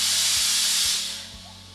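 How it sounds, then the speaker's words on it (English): A scuba BCD jacket valve venting air gives a loud, close hiss that holds for almost a second, then tapers off while a faint low hum and a few soft thuds continue underneath. "That was my valve over there that just expelled it"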